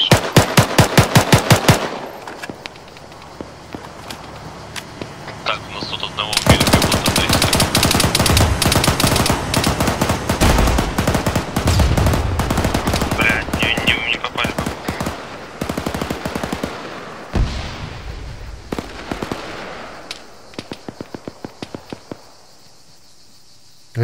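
Automatic gunfire in the Arma 3 war game, with long rapid bursts of machine-gun fire, some loud and close and some further off, running through most of the stretch and fading to scattered shots near the end.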